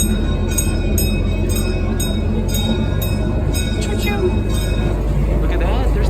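The Big Boy Railroad miniature train at a Southern California theme park rolls along with a steady rumble and rhythmic clicks from the wheels on the track, heard from on board. People talk over it.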